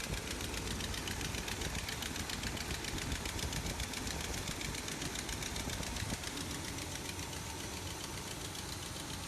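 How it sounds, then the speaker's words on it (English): A Chevy 350 V8 in a truck runs steadily at idle, a close, continuous rough rumble with a faint ticking knock, alone with no talk. "let's move on to the turning the truck on"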